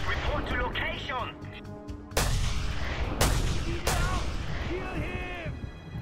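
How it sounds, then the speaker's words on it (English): Grenade explosions in a video game: several loud, sharp blasts burst out in the second half, each with a decaying rumble, over gunfire and busy game effects while a voice talks throughout. "Why do I keep accidentally throwing grenades?"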